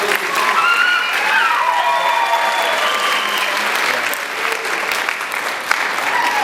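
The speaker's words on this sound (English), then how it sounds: "How about a round of applause for all of our local" A pageant audience gives a steady, sustained round of applause, a dense even wash of many hands clapping that fills the room at moderate loudness and eases off slightly toward the end.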